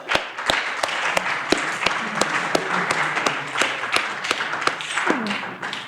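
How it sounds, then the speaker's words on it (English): Conference audience at a cybersecurity event clapping, a fairly sparse, uneven applause with distinct sharp individual claps and taps standing out over the softer crowd clapping. "A great applause to yourself, please."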